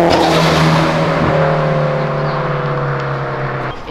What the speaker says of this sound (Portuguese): que ronco perfeito esse carro